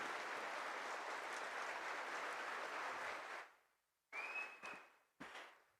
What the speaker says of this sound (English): A huge round of applause, ladies and gentlemen.